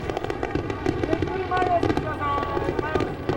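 Fireworks at a Tokyo waterfront festival crackle and pop in quick bursts underneath a voice talking, with a busy layered mix throughout.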